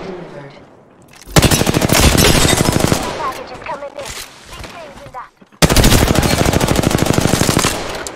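Rapid automatic gunfire from the Apex Legends battle royale shooter, loud and close, in two long sustained bursts separated by a short quieter stretch with scattered game sounds.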